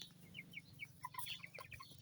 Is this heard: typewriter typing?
no